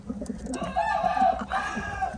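A pigeon, whose wings are being clipped, coos and warbles in short throaty bursts close by, with faint rustling around it.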